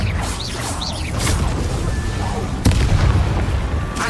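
A Confringo spell blast in Hogwarts Legacy, a booming fiery explosion with rumbling low impact, followed by a sharp crack and another heavy burst, over continuous game ambience.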